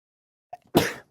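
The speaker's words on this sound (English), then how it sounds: "Got to sneeze." A single sharp sneeze, preceded by a brief intake of breath, close and fairly loud in otherwise quiet surroundings.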